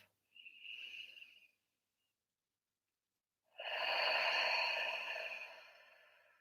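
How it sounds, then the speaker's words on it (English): Two deep exhalations out through the mouth during a guided meditation, close and soft: a short breath, then a pause, then a longer, fuller airy release that slowly fades, with no talking. "Take a couple of deep breaths and let them go out the mouth."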